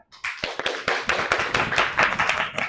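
A classroom of students applauds loudly at the close of a Form 4 history lesson, a dense, continuous patter of many hands clapping up close with sharp individual claps standing out.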